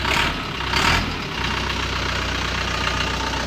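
A Jinma 504 tractor engine, a diesel, revs up twice as the throttle is pressed, then settles into a loud, steady, close knocking idle rumble with no voices.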